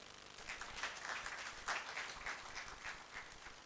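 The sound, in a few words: audience applause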